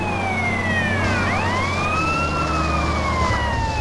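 An ambulance siren in the video game GTA San Andreas wails loudly and continuously, its pitch sweeping up and down as the vehicle passes, over steady engine and traffic rumble.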